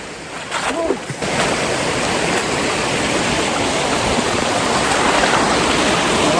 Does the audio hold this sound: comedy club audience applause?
no